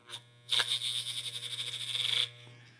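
Electric hair clippers buzz through a man's long, overgrown hair at a barbershop, a close, steady whirring drone of about two seconds with faint pulsing as the blades cut.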